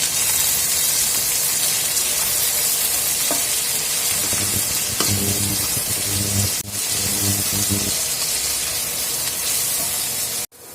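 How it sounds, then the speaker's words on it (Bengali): Jackfruit seeds frying in a pan with salt, cumin powder and coriander powder give a steady, close, loud sizzle throughout, with a soft scrape of stirring and a sharp clink near the end. "লবণ, জিরার গুঁড়া, ধনিয়ার গুঁড়া ভালো করে ভেজে নেব।"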